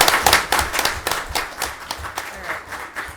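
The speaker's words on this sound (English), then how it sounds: "let's give 'em applause" A room at a city council meeting breaks into close, brisk hand clapping, individual claps distinct and uneven, sustained for a few seconds with no talk.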